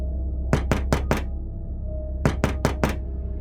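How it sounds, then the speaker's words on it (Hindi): Knocking on a door, two quick sets of four sharp raps separated by a pause, close and crisp over a low steady hum, no voices. "किसी ने दरवाजा खटखटाया है।"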